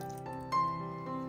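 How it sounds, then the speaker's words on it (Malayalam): Urad dal soaking water poured into a mixer jar, a short close trickle with a couple of small splashes. "ഇനി ഇതിലേക്ക് നമ്മൾ ഉഴുന്ന് കുതിർത്ത വെള്ളം കുറച്ച് ഒഴിച്ചു കൊടുക്കാം"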